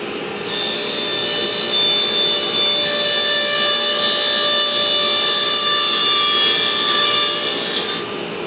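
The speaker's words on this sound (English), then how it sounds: "I'm going to rip a line right down my table saw at 17 inches" A table saw rips through a sheet of luan plywood in one continuous pass, a steady high whining cut that starts, holds for several seconds and winds down, loud and close with no talking.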